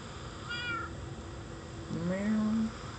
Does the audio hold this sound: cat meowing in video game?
yes